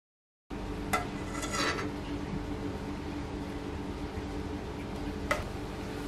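A ladle clinks against a pot before chocolate pudding is poured slowly into small 100 ml cups, giving soft scraping and liquid sounds with one more sharp clink later, all faint and close.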